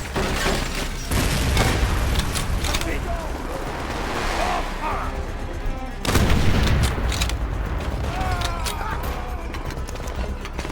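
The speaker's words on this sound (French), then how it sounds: "Mitrailleuse ennemie!" Enemy machine gun fire and explosions in Call of Duty: World at War, a World War II battle, with heavy continuous bursts and booms, loud and chaotic, under shouted voices.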